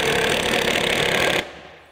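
A Metabo HPT 36V triple hammer impact driver in self-tapping mode drives a quarter-inch pole barn tin screw: a loud, dense, rapid hammering rattle for about a second and a half, then it cuts off abruptly and fades away.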